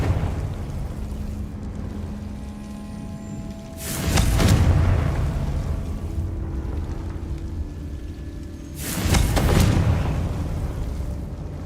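Two booming Confringo spell blasts go off in a wizarding video game, each a loud, rumbling burst several seconds apart, with a quieter ambient bed of game sound between them.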